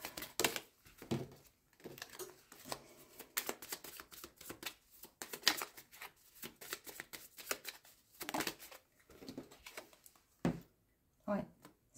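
Tarot cards are shuffled by hand in a steady run of soft, quick rustling and slapping bursts, quiet and close, with a few short gaps near the end.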